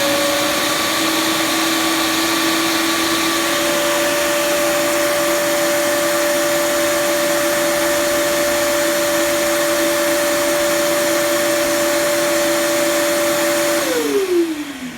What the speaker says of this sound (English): it runs the vacuum at the same time